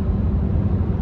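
A car drives steadily on the way into town, its engine and road noise forming a continuous low rumble heard from inside the cabin.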